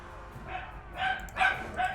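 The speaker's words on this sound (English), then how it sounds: "don't mind the dog" A dog barks three times in quick succession indoors, moderately loud, over a quiet background.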